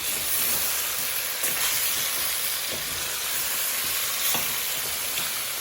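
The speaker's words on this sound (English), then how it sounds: "So, guys, I'm about to open the pot and see what is what." A pot of Jamaican curry goat is opened mid-cook, releasing a constant loud steamy hiss and sizzle, with a few faint clinks of the pot over the spread.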